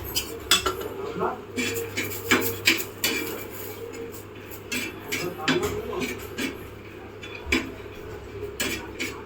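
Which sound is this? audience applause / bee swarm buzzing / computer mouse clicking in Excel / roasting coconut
roasting coconut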